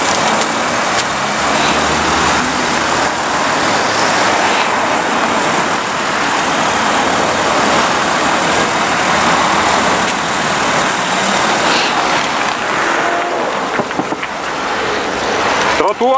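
A car drives along a pedestrian sidewalk, its engine and road noise close and steady throughout, with people talking over it.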